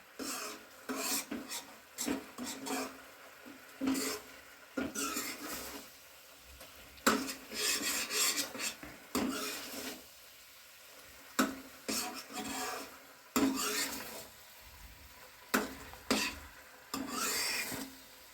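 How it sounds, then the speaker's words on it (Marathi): Khoa, milk solids cooked down from milk for barfi, is stirred in a pan with a spoon, giving repeated rasping scrapes against the metal in an uneven rhythm, close and moderately loud, with no talking. "असं ढवळतच राहायचं आहे"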